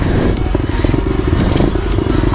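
A small pit bike motorcycle engine runs loudly and steadily nearby, with a rough buzzing drone and some rattling clatter.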